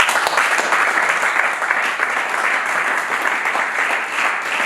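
A church congregation applauds and cheers steadily, a dense wash of clapping with voices mixed in that holds at a fairly loud, even level throughout.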